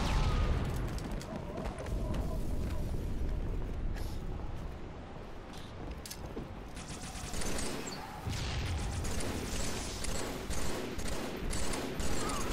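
Sniper rifle fire in Halo 3 split-screen multiplayer on the Narrows map, sharp reports amid dense ongoing game gunfire and explosions, fairly loud and continuous throughout, with faint voices in the mix.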